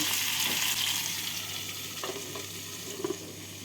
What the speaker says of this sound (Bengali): পটলগুলোকে তেলের মধ্যে নাড়াচাড়া করে নিয়ে গ্যাসটাকে মিডিয়াম ফ্লেমে রেখে দু মিনিটের জন্য ঢাকা দিয়ে দেব